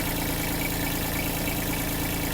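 A Kubota B-72 mini tractor's 900 cc diesel engine idles at a steady, even rumble, close and continuous with no other sounds.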